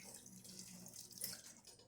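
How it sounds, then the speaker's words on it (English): Water streams from the group head of a Profitec Pro espresso machine with flow control opened fully, a faint, steady splashing hiss lasting a couple of seconds. "this has flow control, so you can control how much water comes out the drip head"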